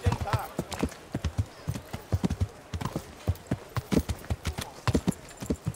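Horse hooves clip-clop in a steady, brisk rhythm through the medieval role-playing game Kingdom Come Deliverance, each hoof strike distinct and close, with a voice faintly underneath.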